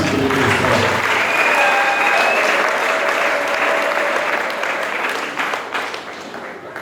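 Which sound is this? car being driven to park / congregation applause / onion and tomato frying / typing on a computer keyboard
congregation applause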